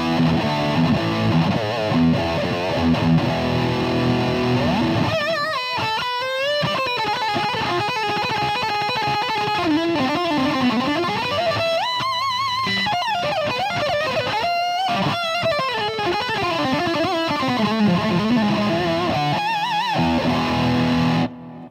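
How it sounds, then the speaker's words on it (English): Electric guitar played through a Boss DS-2 Turbo Distortion pedal in turbo mode with knobs near three o'clock, giving loud, continuous saturated chords and a bending lead line with no talking. "And it has the added functionality of the turbo mode,"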